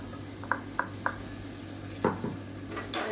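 Blended tomatoes, three medium ones, going into a soya chunk kulambu as a metal spoon stirs the pan, giving a few light regular clinks, then a scraping stir with faint sizzling and a sharper knock at the end.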